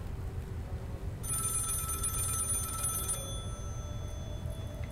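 A telephone rings inside a phone booth in the horror game Maid of Sker, one steady burst of electronic bell trill lasting about two seconds over a low ambient hum.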